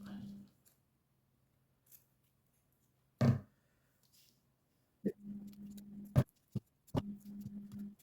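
Several sharp snips of scissors cutting small pieces of tape, a brief burst and then a quick series of clean cuts, close and crisp, with a soft steady hum underneath.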